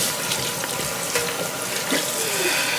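Tap water pours over a raw whole chicken being washed at a sink, a close, steady splashing stream that shifts as the bird is moved under the flow.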